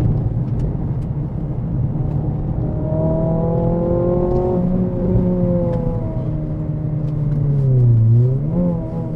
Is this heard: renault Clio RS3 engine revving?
yes